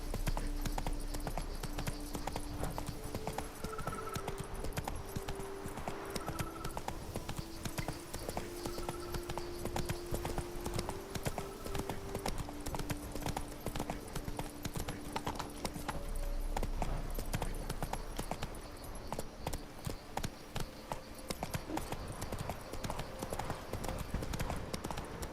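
Horse hooves clip-clop steadily at a gallop in The Witcher 3: Wild Hunt, Blood and Wine expansion, a continuous rhythmic beat under game music and ambience throughout.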